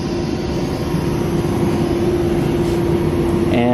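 A new ARE Industries block shot blaster runs with its dust collector, making a steady, fairly loud mechanical drone with a constant tonal hum, close by and unbroken, with a faint rattle near the end.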